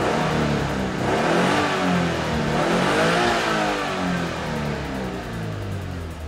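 A stock Subaru Impreza GRB engine revs up and holds high revs, a loud, steady close-up roar with rising and falling pitch and no talk over it.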